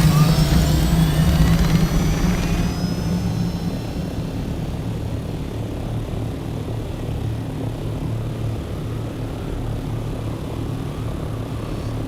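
An aircraft in the Dune: Awakening video game takes off with a rising engine whine and roar that settles into a loud, steady droning hum.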